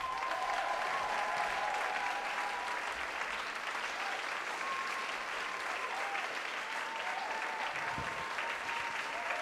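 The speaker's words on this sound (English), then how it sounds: "I want you to give a big applause for Esra and Enes" Audience at a comedy show bursts into sustained applause, a dense even clatter of many hands lasting several seconds, with faint crowd murmur and a few scattered whoops mixed in.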